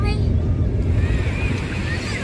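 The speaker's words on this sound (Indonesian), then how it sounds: "Kita sudah sampai guys di pantai" Surf at a crowded beach on Indonesia's coast during the second day of Lebaran, a steady close wash of waves roughened by wind buffeting the microphone, with a voice speaking over it.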